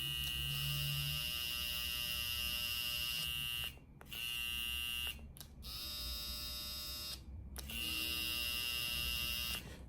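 A Matsui electric shaver running with a steady high buzzing hum, briefly cutting out a few times before resuming, close and alone.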